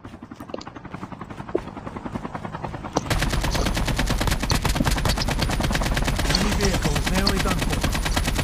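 Rapid bursts of gunfire in the video game Call of Duty Mobile crackle throughout, sparse single shots at first and then dense, continuous automatic fire, loud and close.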